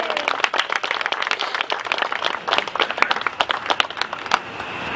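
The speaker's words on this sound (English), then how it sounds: "So let's give Irene a clap" A small audience at a community gardens-for-wildlife celebration claps for a participant, a fairly close patter of individual hands with distinct irregular claps running for several seconds.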